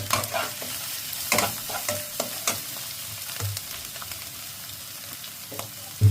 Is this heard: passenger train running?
no